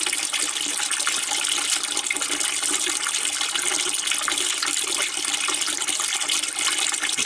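Antifreeze draining from a 1997 Detroit Series 60 diesel engine into buckets, a steady, loud, continuous pour of liquid running for the whole stretch without pause.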